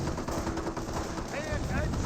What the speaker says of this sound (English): Snipers firing away.